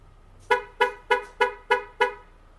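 A Chery car's horn sounds through its smart access search function: six short, evenly spaced honks in quick succession, clear and moderately loud against a quiet background.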